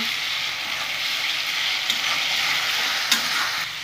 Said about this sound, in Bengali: পেঁয়াজ বাটাটা দিয়ে দেবো। পেঁয়াজটা দিয়ে আমি ভালো মতো কষে নেব